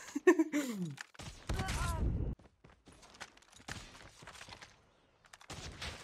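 Bursts of rapid gunfire crackle in a short volley, with scattered shots and clatter around it, from Call of Duty Mobile combat.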